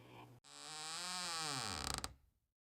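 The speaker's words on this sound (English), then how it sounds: "The door opened," A door creaks open in a single long, drawn-out groan with a rising then falling pitch, loud and close, ending with a brief rattle.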